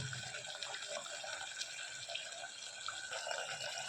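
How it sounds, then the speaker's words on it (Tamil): Water poured into a simmering quail masala gravy in a Tamil home kitchen, a steady close splashing trickle running through the whole stretch with faint drips, no talking over it. "இது கூட ஒரு ஐம்பது எம்எல் தண்ணி சேர்த்துக்கிறேன்"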